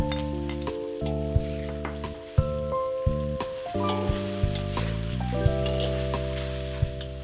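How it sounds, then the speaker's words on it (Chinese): Fermented black beans, chili rings and minced garlic sizzle in a hot wok over minced pork, a steady close frying hiss broken by spatula scrapes and taps on the pan. "下豆豉爆香，再放入椒圈、蒜末炒香。"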